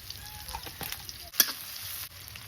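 Bay leaf and whole garam masala spices frying in oil in a wok for Bengali fish kalia, a steady soft sizzle with light stirring clatter and one sharper pop partway through.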